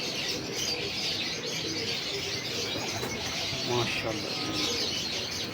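Pigeons coo in a loft, with pigeon number 88 among them, as soft coos and chirps mix with occasional wing flaps beneath someone talking in the foreground.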